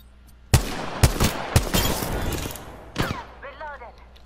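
Gunfire in the video game Apex Legends: several sharp, loud shots about half a second apart, then a rapid burst, followed by quieter electronic game effects.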